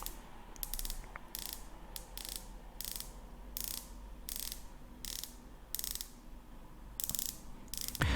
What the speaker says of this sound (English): so you can hear the noise of that bezel